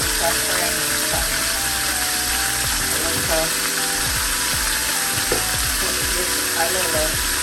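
Seasoned turkey neck fries in rapeseed oil in a small frying pan, giving a steady close sizzle with occasional clinks and pops beneath a talking voice.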